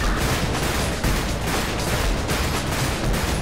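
Gunshots in a GTA police roleplay near Sandy Shores, a continuous loud barrage of overlapping shots with sharp cracks over several seconds, close and dense.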